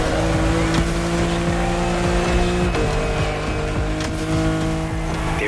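A BMW M4 Liberty Walk Edition drives in Crew Motorfest, its engine holding a steady droning tone that dips briefly with a gear change midway, loud and continuous with faint tire noise.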